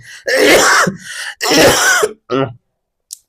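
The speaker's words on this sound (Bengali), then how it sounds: "মারাত্মক কাশি দেখা গেছে" A person coughs severely in a few harsh, close bursts, two long hacking coughs followed by a shorter one, then silence.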